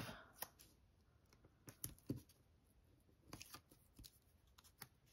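Scissors snip through craft material in a quiet room, with a series of short, crisp, close cuts coming at an irregular pace and no talking.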